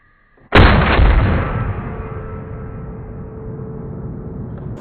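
A single sharp AK-47 rifle shot fired at a 40-yard target cracks out loud and close after near silence, followed by a long decaying boom and echo across the range.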